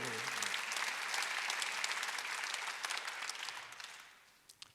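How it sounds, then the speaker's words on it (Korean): A church congregation claps loudly and steadily during a Sunday service, then the applause thins out and fades toward the end. "박수로 말하세요."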